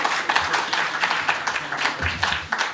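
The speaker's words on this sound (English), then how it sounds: "Can we give him another round of applause?" An audience at the launch event of a South African public service union applauds together, a dense, continuous patter of clapping that holds steady throughout.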